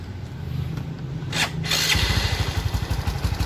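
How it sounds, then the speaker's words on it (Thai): A motorcycle engine running on E85 fuel is cranked with a brief whirring, then catches and settles into a rapid, even putter at close range. "เดี๋ยวผมสตาร์ทเครื่องให้ฟังนะครับ"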